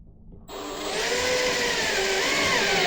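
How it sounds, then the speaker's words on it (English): A power driver sinks screws into old ceiling plaster during a patch repair. Its motor whine starts abruptly after a short quiet moment and holds steady and close, with no talking. "So what I'm going to do is just sink 2 screws"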